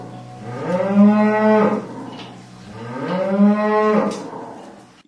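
Cows on a farm moo twice, two long, loud, drawn-out calls close by, each swelling and then fading, with a short pause between them and no talking.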